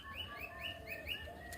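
Morning birdsong near a silk cotton tree: a handful of quick, rising chirps repeat at an even pace, soft and somewhat distant over quiet outdoor background.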